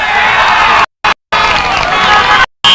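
A large football crowd roars and cheers at a country football league match as a goal is scored, a loud sustained wall of voices with whoops, broken by short gaps of silence.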